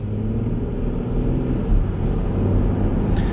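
A Jeep Grand Cherokee's 3.6-litre V6 with eight-speed automatic pulls away through the lower gears, a steady low engine rumble heard from inside the cabin with slight swells in load.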